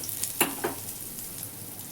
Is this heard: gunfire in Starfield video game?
no